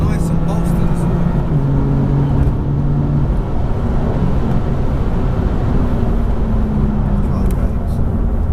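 Steady engine and road drone from inside a 2017 BMW M4 CS driving under acceleration, a continuous low hum with rising tonal harmonics throughout, heard under people talking.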